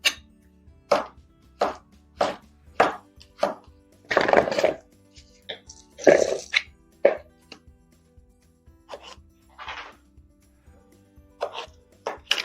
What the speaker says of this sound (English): she just knows the sound of the knife on the cutting board